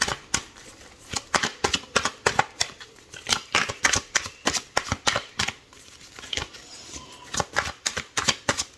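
A deck of tarot cards being shuffled by hand, with rapid, rhythmic riffling bursts repeating close up and fairly crisp, with short pauses between runs and no talking.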